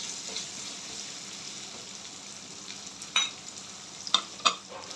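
Onion fries in oil over a high flame for street-style veg chowmein, a faint steady sizzle underneath with a few sharp clinks and scrapes of stirring toward the end.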